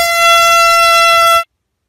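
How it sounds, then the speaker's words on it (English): A single loud, sustained air horn blast from a prank sounds up close for about a second and a half, then stops abruptly into silence. "Air horn prank."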